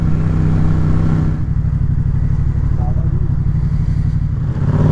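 A car revs loudly as it passes close by on a road, its engine a heavy, sustained low drone that dips briefly and then holds steady.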